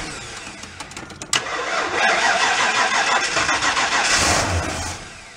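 The engine of a 1970 Mercury Cougar saved from a scrapyard cranks with a few uneven starter turns, then catches into a loud, rough running roar that holds close. No one speaks.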